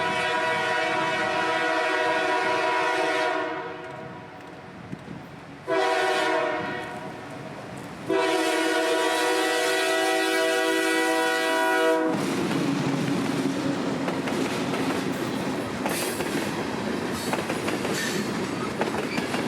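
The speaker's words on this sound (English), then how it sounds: "with a pair of some of CSX's finest GE wide cab variants" CSX freight train led by a pair of GE wide cab locomotives on the old Tampa Northern main line, its horn blaring in long loud blasts with a short gap, then the rumble and clatter of the passing train taking over.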